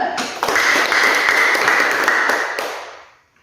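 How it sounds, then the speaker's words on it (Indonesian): A class claps in a classroom, a short burst of hand claps with some sharp distinct slaps, lasting about two and a half seconds before dying away. "Baik, tepuk tangan dulu."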